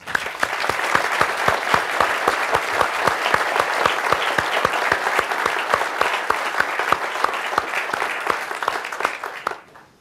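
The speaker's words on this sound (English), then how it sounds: "give every veteran in our midst a heartfelt round of applause" An audience applauds World War II veterans at a history talk about Okinawa, sharp individual claps standing out over a steady, even roar of clapping that fades near the end.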